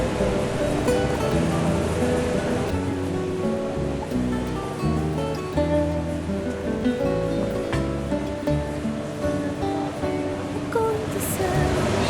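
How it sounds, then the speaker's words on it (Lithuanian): Water from an 18th-century stone fountain in a Portuguese town splashes and rushes in a steady, close, continuous wash, with other faint tonal sounds behind it. "Čia fontanas"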